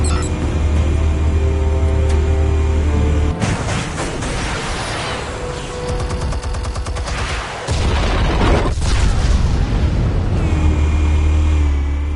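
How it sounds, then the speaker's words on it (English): Explosions and heavy gunfire in a Batman video game, loud and close, with rumbling blasts and bursts of rapid shots changing across the span and a deep low boom near the end, and no voices over them. "Explosives armed. Fire when ready."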